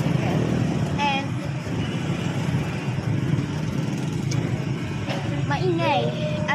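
A tricycle's engine drones steadily and loudly from inside the cabin, a rough, constant motor noise with a few brief high squeaks, while a person speaks over it.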